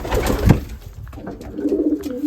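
Close, fairly loud cooing from young racing pigeons in their loft: a burst of throaty coos at the start, then a longer rolling coo trailing off, with no voices.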